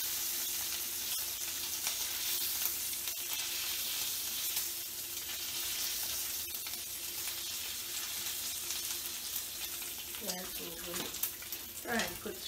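Bacon frying in a pan under a splatter screen, a steady broadband sizzle running throughout with a low hum, and brief speech near the end over the crackle.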